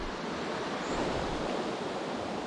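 Flowing water rushes at a stream feeding the Muak Lek reservoir where someone is fishing for hampala barb, a close, continuous broadband wash with no voices.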